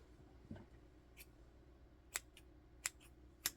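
Scissors snipping yarn while loom knitting a small octopus, three or four sharp, quiet clicks spaced about half a second apart, close and with no talk.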